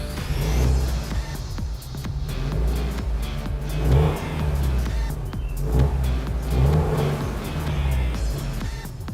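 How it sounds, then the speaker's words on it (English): A turbocharged Subaru engine idles and is revved in several short bursts, each rising and settling back, close up with a rough, burbling tone. "So I'm gonna give it a little bit of revs because it's not my car."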